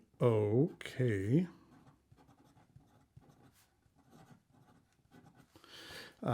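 A Sailor King of Pen Bokumondoh fountain pen with a medium 21 karat gold nib writes in purple ink, making soft, faint scratching strokes on paper. A voice is heard briefly at the start before the quiet nib sounds continue alone.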